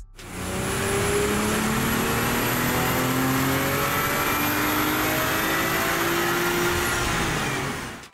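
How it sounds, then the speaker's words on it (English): Toyota A90 Supra with manual gearbox on a hub dyno for a baseline run, engine rising in one long sustained pull to a high whine, loud and close, then cutting off. "First up, a baseline run on the mainline hub dyno."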